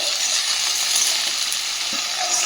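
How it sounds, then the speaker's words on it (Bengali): Prawns and vegetables frying together in a pan give a loud, steady, close sizzle with a constant hiss and no pause, stirring faint beneath it and no voices. "চিংড়ি মাছটা দেওয়ার পরে একটু ভেজে নিতে হবে আগে সব কিছুকে"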